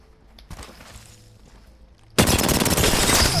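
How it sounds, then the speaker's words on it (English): Hip-fired automatic rifle in a shooter game warmup: after a quiet stretch with a few soft clicks and footsteps, a loud sustained burst of rapid gunfire erupts and continues to the end. "first I'm going to start hip fire. Getting control of that recoil."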